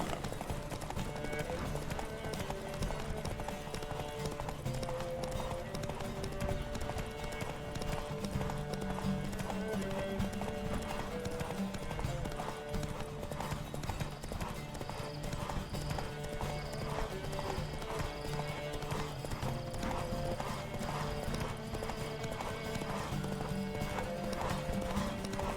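A horse gallops in The Witcher 3, its hooves keeping a continuous rhythmic clip-clop from start to finish, with an occasional whinny over steady game music.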